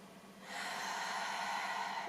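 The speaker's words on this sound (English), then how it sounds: "breathing deeply" Deep, steady breathing during a face yoga exercise for dark circles, a soft close airy breath that swells after half a second and holds evenly to the end, with no talking.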